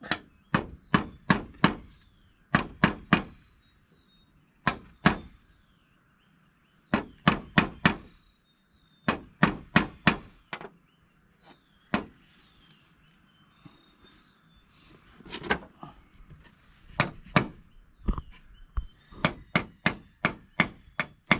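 Sharp hammer blows driving nails into bamboo come in quick bursts of several strikes, separated by short pauses, loud and close with no talking.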